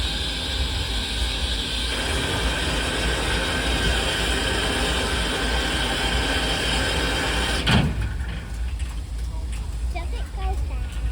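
Norfolk & Western 611 steam locomotive moving out past a waiting freight train at Buena Vista, Virginia; loud, steady rail rumble and chuff fills the first eight seconds, then cuts off abruptly to a quieter background with light sounds.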